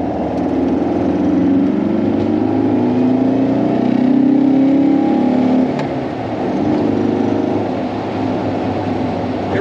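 Steady engine drone of a low-slung Volkswagen car driven hard through back-road turns, the pitch rising and falling with throttle, heard from inside the cabin with continuous road noise.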